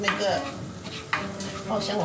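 Garlic slices sizzle steadily in hot oil while a spatula stirs and scrapes the pan, with a faint voice in the background.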